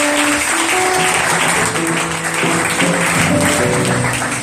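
A church congregation claps steadily and loudly, with scattered cheers and shouts of acclaim mixed into the applause.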